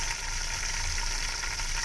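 Meat, chicken, and onions frying in a pan for an aloo gosht salan, a steady close hiss and sizzle without pause or speech.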